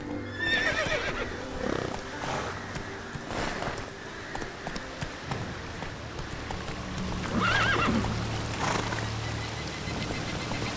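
Geralt's horse Roach in The Witcher 3: Wild Hunt clip-clopping along with repeated hoofbeats, letting out two clear whinnies, one early and one louder later, close and prominent.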